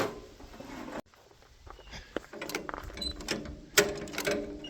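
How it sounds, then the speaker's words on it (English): Metal hood panels come off a Farmall H tractor with scattered clanks, ratcheting clicks and rattles, close by and with no talking. "Taking this hood off again."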